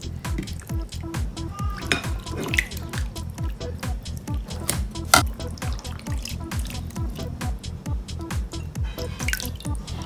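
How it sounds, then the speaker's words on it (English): Chicken gizzards being washed a second time in a bowl of water, with steady splashing, dripping and sloshing plus light clinks of the container throughout, close and continuous. "I'm going to put it in it and wash it for the second time."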